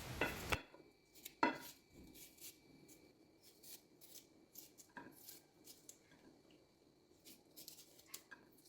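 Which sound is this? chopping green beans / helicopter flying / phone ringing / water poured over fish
chopping green beans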